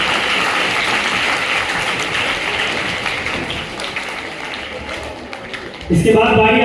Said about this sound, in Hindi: इस्तकबाल करिए, जोरदार तालियां बजाइए।